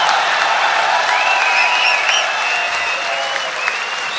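Loud, dense audience applause fills a poetry gathering (mushaira), steady clapping from a large crowd with a few whistles rising above it, continuing without a break.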